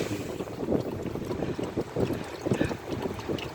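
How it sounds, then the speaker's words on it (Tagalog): Steady wind buffets the microphone in a continuous low rumble, with boat and water noise underneath and no one speaking. "Umpisa na ang hangin, umpisa na."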